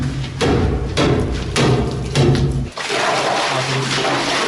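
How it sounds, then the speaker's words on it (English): A crowbar strikes and breaks through thick ice over cold water near the Chernobyl reactor, four heavy near thuds in a row, then water sloshing and rushing after the ice gives way. "while Vlad breaks through the ice"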